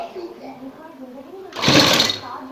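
An electric sewing machine stitches hooks onto a garment neckline, a loud mechanical whirring burst starting about midway after a quieter stretch of low hum and voice.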